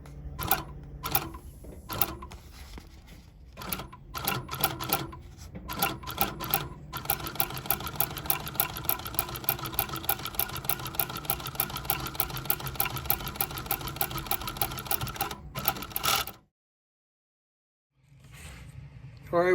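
Sewing machine stitching the upper of a shell cordovan Alden full strap loafer, a fast steady mechanical chatter running close and loud for about sixteen seconds, then stopping, with a brief pause before handling noise resumes.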